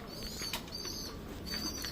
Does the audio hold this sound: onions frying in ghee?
no